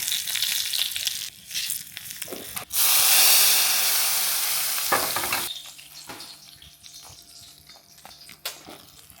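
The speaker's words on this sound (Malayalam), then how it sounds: "ഇനി കടുകും വറ്റൽമുളകും കൂടി കാച്ചിട്ട് ചേർക്കാം" Mustard seeds and dried red chillies crackle and sizzle as they temper in hot oil for a Kerala ash gourd and mango moru curry, with a loud, steady hiss for a few seconds between quieter clatters.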